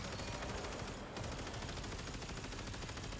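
A ship's tail gun in Warframe firing in a continuous rapid burst, quiet and dense, running steadily through the whole stretch.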